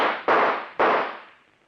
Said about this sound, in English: All right, then I'll shoot.